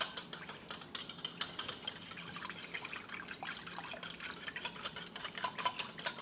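Pancake batter wet ingredients with milk are whisked in a bowl, a quiet, fast, continuous rhythmic clicking and sloshing of the whisk close by.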